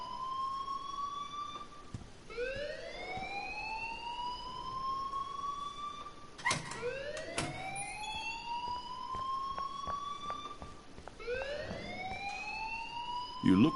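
Blaring school fire alarm in Life is Strange, a rising, sweeping siren-like wail repeating in long cycles at steady loudness, continuous through the scene with a few sharp knocks mixed in.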